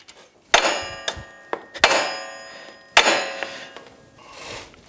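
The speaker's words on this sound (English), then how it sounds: "I'm going to put it on the end of it, and then I can hit this with a hammer." A hammer strikes a socket set on the castle nut of a Yamaha YXZ1000R ball joint, ringing metallic blows repeated several times with uneven gaps, loud and close, each with a bright decaying clang.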